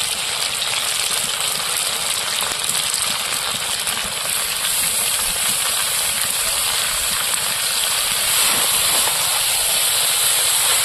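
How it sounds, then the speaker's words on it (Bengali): Broccoli fries in hot oil with liver, giving a loud, close, unbroken sizzling hiss that holds steady throughout. "কষাতে কষাতে তেল ছেড়ে দিয়েছে, এবার ব্রোকলি গুলো দিয়ে দেবো।"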